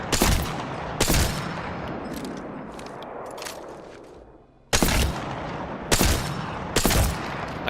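Gunfire from the video game Apex Legends: loud, sharp shots crack out close and dry, a cluster of three early on, then a quieter stretch before another rapid string of shots rings out near the end, with no talk over it.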